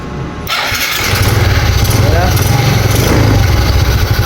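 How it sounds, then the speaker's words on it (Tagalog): A 2010 Suzuki Smash 115 motorcycle push-starts with a short starter whir, then the engine catches and settles into a loud, close, steady idle. "Gumagana na yung ating push start ha."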